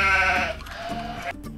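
A sheep gives one clear, close, wavering bleat that trails off into a couple of shorter, softer bleats.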